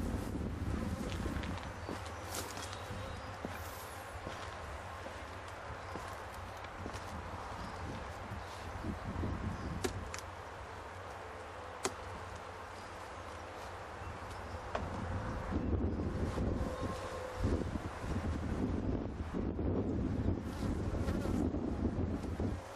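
Honey bees buzzing around a crowded hive outdoors, a steady close droning hum with individual bees passing near, partly masked by gusty wind rumble on the microphone.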